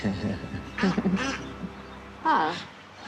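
Ducks quack outdoors in a few close, nasal bursts, a pair early then another cluster near the end, with speech-like sounds mixed in.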